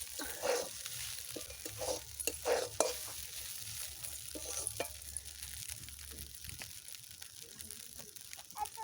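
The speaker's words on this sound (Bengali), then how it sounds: "ঢাকনাটা খুলে একটু নেড়ে দেব।" Flattened rice (poha) is stirred in a pan with a spatula, scraping and shuffling in uneven bursts over a soft sizzle, loudest early on and then settling into quieter, scattered scrapes.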